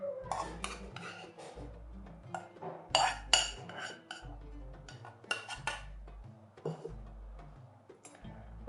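Shredded chicken mixed with stuffing in a dish for a vermicelli seffa, giving irregular clinks and scrapes of a utensil against the dish, close and moderately loud, with a low thumping pulse underneath.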